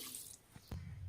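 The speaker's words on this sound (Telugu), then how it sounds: "ఒకటి సగం నీళ్ళు పోసుకుంటాను" Water pours briefly into a pot of soaked rice being readied for bagara rice, a short close splash and trickle that ends abruptly.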